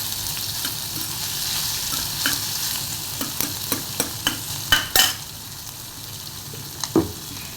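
Curry leaves and onion frying in a pan while being stirred, a steady close sizzle broken by a series of sharp spoon scrapes and clacks against the pan.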